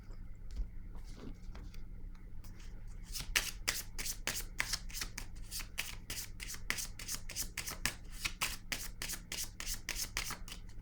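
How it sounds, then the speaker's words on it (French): A deck of tarot cards is shuffled close by in a quick, even rhythm of crisp riffling flicks that repeat steadily for several seconds after a few soft handling sounds. "Je vais piger une autre carte ici."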